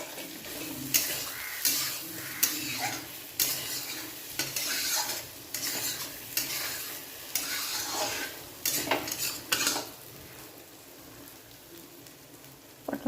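Spice paste sizzles and fries in hot oil for a pointed gourd and poppy seed dish, with repeated scraping stirs against the pan giving an uneven rhythm over a steady crackle, close and fairly loud with no talking.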